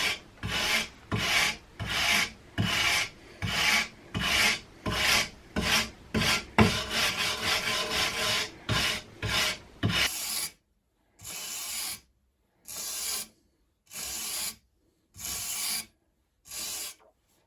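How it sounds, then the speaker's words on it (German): Wood brushed by hand with a brush, rhythmic rasping strokes repeated steadily, close and fairly loud, quickening into a dense scrub before slowing to separate strokes with short pauses between. "Ich bürste aber lieber mit der Hand."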